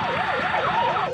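A South Korean fire truck siren wails in a steady rising and falling cycle, loud and close, with traffic rumbling underneath as the truck turns left.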